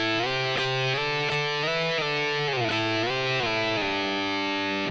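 Distorted electric guitar plays a short phrase of sliding double stops, pitches gliding up and back down, with picked attacks and ringing sustain.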